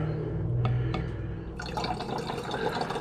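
Hydrochloric acid solution poured off from a container, a soft liquid trickle and splash that swells into a steadier pour, fairly quiet and close.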